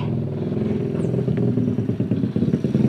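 A motorcycle passes close by on a rough track near Marble Lake in Maros, Sulawesi, its engine loud and throbbing with uneven revving and clattering, rising and falling over three seconds.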